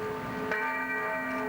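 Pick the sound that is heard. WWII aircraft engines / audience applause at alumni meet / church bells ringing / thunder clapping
church bells ringing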